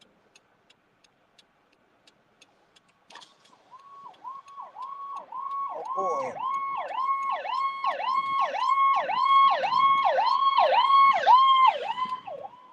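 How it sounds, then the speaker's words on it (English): Soft clicking ticks come first, then an ambulance siren starts up nearby and wails in a fast, repeating pattern, growing louder as it goes on. "Ambulance. It's cruising."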